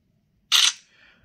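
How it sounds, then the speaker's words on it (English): Samsung smartphone camera shutter firing once, a single loud, crisp click that sets in abruptly and then trails off in a softer tail, with no talking. "Oof, that's such a loud shutter."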